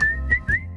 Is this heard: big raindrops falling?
no